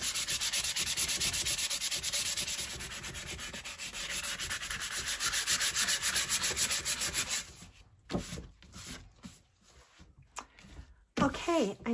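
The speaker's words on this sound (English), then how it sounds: "with some sandpaper, I just start taking that ink off" Rhythmic scratchy rubbing of sandpaper worked by hand, loud and steady, then breaking into shorter strokes with pauses near the end.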